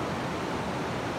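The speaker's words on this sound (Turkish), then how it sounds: "sular akıyor." Water flows in a stream near a bridge at Fethiye as a steady, even rush of broadband noise, close and unbroken, with no voices over it.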